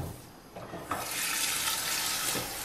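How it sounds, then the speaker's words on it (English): Potatoes rinsed under a running kitchen tap, a steady broad hiss of water splashing into a sink that swells after a brief softer start and holds constant and close. "One thing that is important for this recipe is to wash the potatoes really well."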